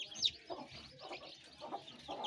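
Farm hens clucking close by, several short soft clucks coming one after another in a quiet, uneven rhythm with no voices.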